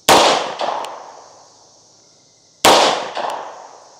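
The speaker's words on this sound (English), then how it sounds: "Maybe I'm shooting too high. Or too low still." Two sharp, loud gunshots from a Tisas B9R double stack 1911 pistol, spaced a couple of seconds apart outdoors, each followed by a ringing echo and a distant metallic clang.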